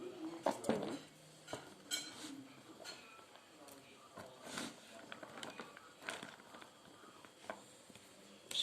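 Cabbage spooned into a pickle container, with clinks and scrapes of a spoon against dishes in irregular bursts while people talk nearby.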